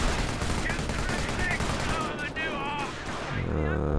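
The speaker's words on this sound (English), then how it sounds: "Three Vickers machine guns up in place." Vickers machine guns firing in the World War II strategy game Company of Heroes, rapid sustained bursts mixed with other battlefield gunfire, with a voice talking over the din.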